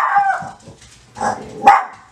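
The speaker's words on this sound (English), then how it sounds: "my dog thinks somebody's here because I'm bumping, knocking on this thing." A dog indoors barks a few sharp times in quick succession, loud and close, set off by knocking during an acrylic pour session.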